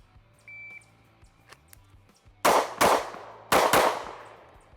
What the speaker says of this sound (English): I'm gonna shoot the right target now.